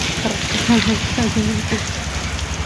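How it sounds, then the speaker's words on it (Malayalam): Light rain falls steadily with a soft, even hiss, while a person talks throughout in the foreground. "ചെറുതായിട്ടൊരു മഴ ഉണ്ട്"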